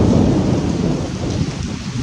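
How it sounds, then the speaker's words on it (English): A loud, close thunderstorm with heavy rain and hail roars steadily across the whole stretch, a dense broadband wash of drumming on surfaces with a low rumble underneath. "That storm got wild. As you can hear, it was just hailing."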